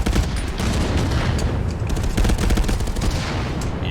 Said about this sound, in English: Out come the frags.